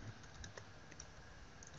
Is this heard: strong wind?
no